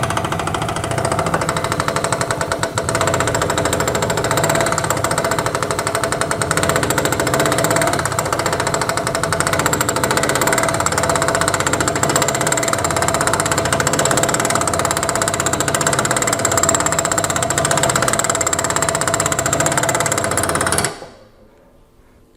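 Pneumatic air draw bar on a milling machine working to release the cutter, a loud continuous hammering rattle lasting about twenty seconds before cutting off abruptly.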